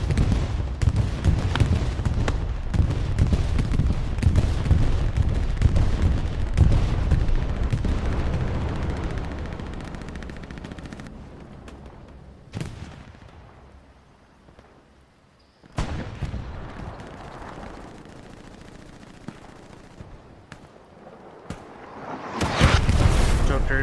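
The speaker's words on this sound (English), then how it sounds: "Looks to be a left bombing run." Bombing run explosions and gunfire in the Hell Let Loose war game: rumbling booms and crackling shots, heavy at first, fading, then sharp blasts returning near the end.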